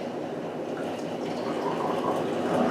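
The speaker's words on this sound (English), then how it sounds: "half a cup of hot water." Half a cup of hot water poured into a gingerbread mix, a steady close trickling pour that continues evenly and swells slightly at the end.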